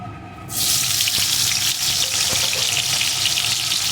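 Pointed gourd drops into hot mustard oil in a wok, and after a short quiet start a loud, steady, hissing sizzle continues without a break.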